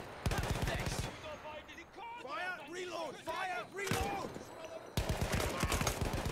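Gunfire from the Boxhorn gun in Battlefield 1, loud rapid bursts at the start and end with scattered single shots between, mixed with game sounds and a voice talking.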